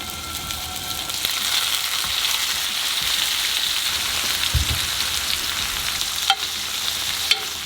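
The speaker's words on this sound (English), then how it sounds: "Now it's time to cook our shrimp up." Shrimp fry in hot oil in a pan, giving a dense, steady crackling sizzle that stays constant and close throughout, with a couple of sharp clicks near the end.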